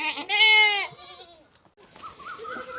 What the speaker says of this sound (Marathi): बघा चांगले आमचं शेळा.